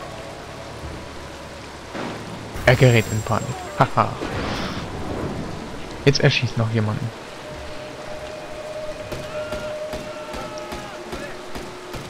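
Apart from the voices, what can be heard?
rain in the video game Mark of the Ninja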